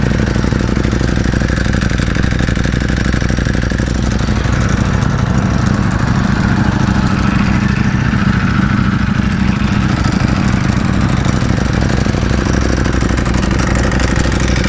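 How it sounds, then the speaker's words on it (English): A 2020 Ducati V4R with an Akrapovic exhaust idles steadily nearby, its loud, low engine drone running unbroken while a faint rattling dry clutch clatters underneath. "You hear the dry clutch of the V4R, the clickety sound?"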